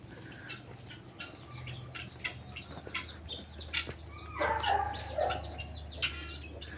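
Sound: chickens in a chicken coop

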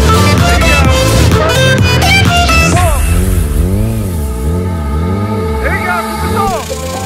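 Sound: dirt bike engine revving

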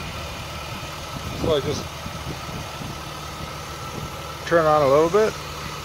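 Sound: car engine idling during a vacuum leak test

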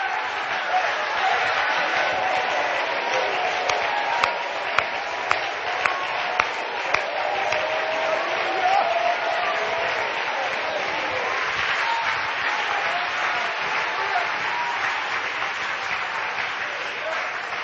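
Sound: congregation clapping and applauding in church

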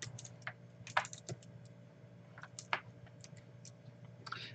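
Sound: typing a username on a computer keyboard

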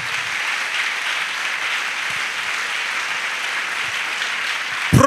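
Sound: applause

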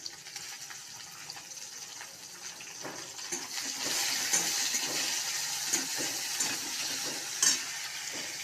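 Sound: chopped onion and tomato frying in oil

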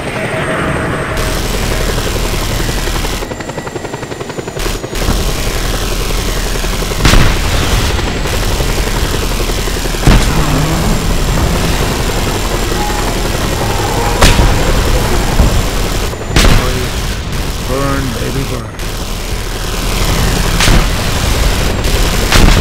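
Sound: missile launch and explosions in video game Just Cause 2

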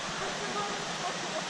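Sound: Mendanha waterfall rushing in Rio de Janeiro

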